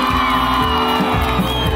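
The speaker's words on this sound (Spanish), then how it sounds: "un aplauso para Dani" A concert crowd in an outdoor town plaza cheers and whoops for Dani, a dense continuous roar mixed with shouts under the music.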